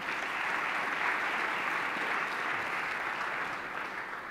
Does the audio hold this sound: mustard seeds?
no